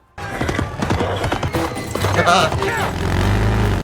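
A horse clip-clops through a subway in a movie scene, hooves ringing under dialogue, whinnies and loud background music that swells toward the end.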